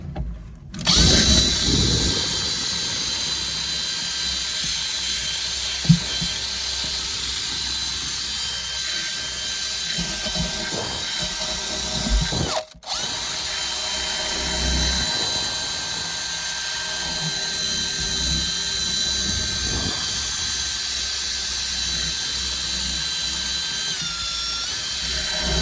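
A power tool with a small brush scrubs the inside of a diesel tank, giving a loud, steady, echoing drill whine that runs almost unbroken apart from one brief cut, with no speech.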